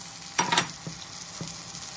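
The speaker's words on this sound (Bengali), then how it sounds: "মশলাগুলোকে একসাথে নিয়ে সব কষিয়ে নিচ্ছি।" Ground spices fry with mutton in a pan while being stirred, giving a soft steady sizzle broken by a few quick scraping strokes and light clicks, close and without speech.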